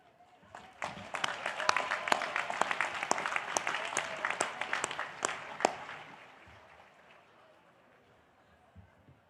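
An audience at a college commencement ceremony applauds steadily with many hands and a few sharp claps standing out, then the clapping thins and dies away into room noise.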